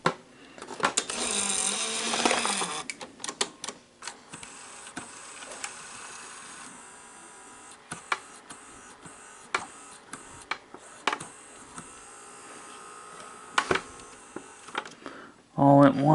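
An NEC VC-N70EU Beta HiFi VCR mechanism whirs and grinds as it tries to load a tape, with clicks, clunks and motor hum, while someone talks intermittently.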